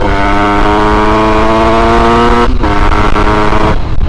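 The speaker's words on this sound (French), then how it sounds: "Ça fait quelques accélérations là vite fait en sortie de ville" A moped fitted with an 86cc aluminium top-end kit accelerates hard on a road at the edge of town, a loud, buzzing two-stroke whine with a brief dip partway through.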